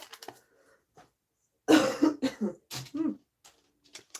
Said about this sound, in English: And I got the coughs